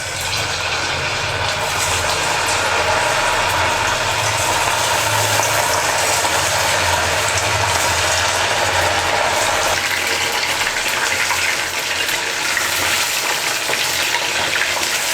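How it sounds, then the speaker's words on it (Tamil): Marinated chicken deep-frying in hot oil in a kadai for chilli chicken, a steady dense crackling sizzle that holds loud and continuous throughout with no break. "சிக்கனை எடுத்து நம்ம எண்ணெயில் போட்டு பொரிச்சு எடுத்துக்கலாம்."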